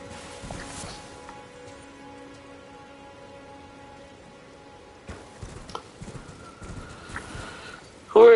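Horse hooves clip-clopping in a video game, with irregular hoof knocks appearing partway through over a soft steady ambient bed and a brief burst of voice at the very end.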